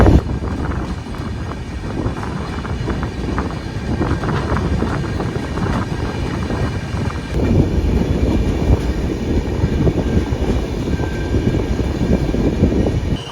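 The Mysuru–Cuddalore Port Express rolls into Cuddalore Port Junction station, a loud, continuous rumble of wheels and rushing wind heard from on board that grows heavier partway through and carries on steadily.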